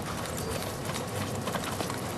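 A horse on a riding-schooling ride moves into a canter, its hooves giving a soft, fairly distant rhythmic clip-clop over constant background noise.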